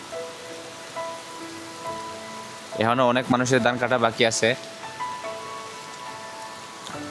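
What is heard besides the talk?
heavy rain falling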